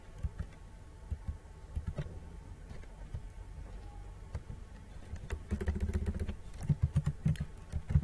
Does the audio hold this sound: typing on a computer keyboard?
yes